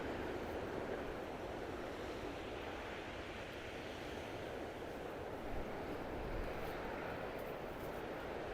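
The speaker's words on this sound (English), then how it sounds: "So the sea is a lot calmer now" Calm sea waves at Bonchurch on the Isle of Wight, a steady soft wash of surf with wind rumble on the microphone, no distinct breakers, continuous and fairly faint.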